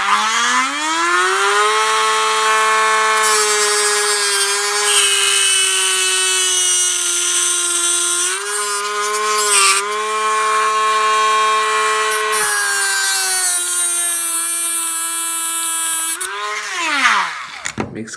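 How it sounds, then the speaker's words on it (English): A Dremel rotary tool fitted with a cutting wheel cuts grooves for ice cream cone Christmas lights: a loud, steady, high-pitched whine close by, pitch dipping slightly under load, then winding down at the end. "it's easier to do it this way with the cutting wheel"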